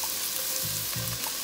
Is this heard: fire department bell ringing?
no